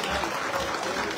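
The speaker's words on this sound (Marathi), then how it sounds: "जोरदार टाळ्या वाजवत आहेत" Loud audience applause fills the hall at a jetty groundbreaking ceremony in Borivali, dense continuous clapping from a large crowd.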